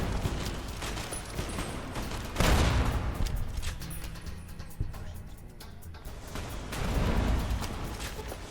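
Explosive anti-material rifle fire in the game Fallout: New Vegas, a dense, loud barrage of booming shots and blasts that roars throughout with brief swells, no voices over it.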